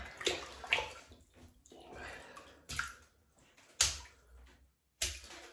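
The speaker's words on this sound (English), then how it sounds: "So we'll wet the brush." A horsehair shaving brush is wetted under running water at a sink, giving soft splashing and dripping in irregular bursts with quiet gaps and occasional handling clicks, fairly faint and close.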